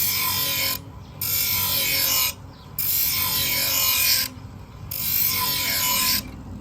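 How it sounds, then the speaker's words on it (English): Blade shears are ground in slow sweeps, giving loud rasping bursts of metal on the grinder separated by short quieter pauses, repeating about four times. "Pays to check your shears while you're grinding so that you don't overgrind any particular areas"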